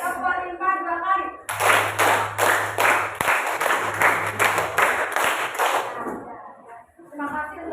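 A school class claps hands in a steady rhythm, about a dozen loud, even claps in a row, with a voice speaking before and after.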